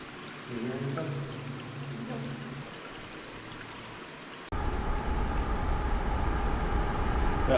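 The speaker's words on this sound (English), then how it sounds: "That there is a train." A steady rumble of a train rolling past a residential area in Appalachia, swelling louder partway through into a dense, continuous roar close by.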